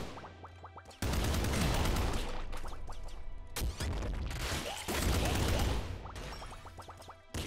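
A bouncer gun firing in the Nuclear Throne game: dense, loud bursts of rapid shots in long stretches, broken by short gaps, with a quieter stretch at the start.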